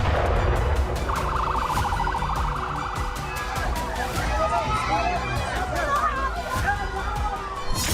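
An ambulance siren wailing in Gaza during bombing, a steady tonal warble rising out of a loud, rumbling street scene with overlapping voices and shouting crowd noise.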